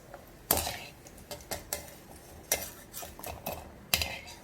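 Dry fruits stirred in ghee in a pan for besan laddu: sharp spoon clinks and scrapes against the metal pan, irregular and close, over a soft background hiss.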